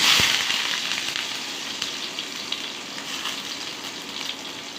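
Chopped onion with turmeric and kalonji seeds frying in hot oil, a steady close sizzle with a sharp burst at the start that settles into an even crackle.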